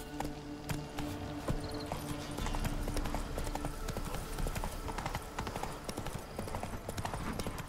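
The horse Roach gallops in The Witcher 3: Wild Hunt, a steady, rapid clip-clop of hooves running throughout over a low game soundscape.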